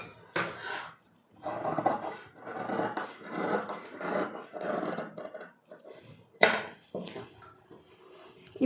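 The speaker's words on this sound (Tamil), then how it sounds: "இப்போ நம்ம ப்ளவுஸை கட் பண்ணலாம்." Scissors cut through blouse fabric close up, giving a series of rasping, rubbing snips and slides in irregular bursts with short pauses between, quiet and alone.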